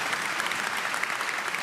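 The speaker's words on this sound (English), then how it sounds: "An applause for you" Audience applause at a soil-conservation conference talk in Austria, a dense, steady patter of many hands clapping for under two seconds with no voices on top.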